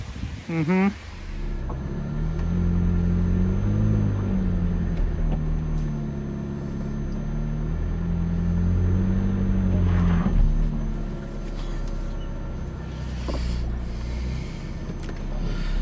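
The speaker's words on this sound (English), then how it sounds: "Yes, I am actually wheel spinning and sliding, and this is not funny." A McLaren GT sports car spins its wheels and slides on a snow-covered road. A deep, loud, steady engine roar rises and falls for most of the clip, with a short whine near the start.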